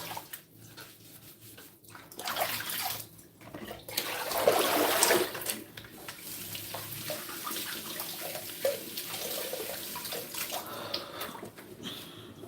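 Tap water runs steadily over an apple being washed at a kitchen sink, with a louder gush of splashing midway and softer trickling and handling before and after.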